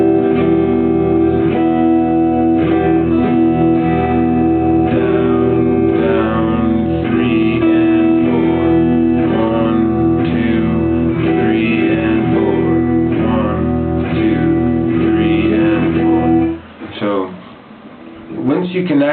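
Guitar chords strummed in a steady rhythm of downstrokes with an added upstroke on each beat, close and loud throughout, fading into a brief pause near the end.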